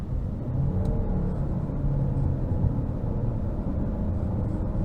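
2022 Chevrolet Malibu LS accelerating under throttle, heard from inside the cabin as a steady low engine drone and road rumble that holds even throughout.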